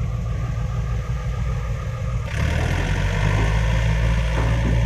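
A vehicle with a very loud exhaust labours while stuck in the mud of a laterite pit, its heavy low engine rumble steady and close, then swelling louder and rougher about halfway through as it revs.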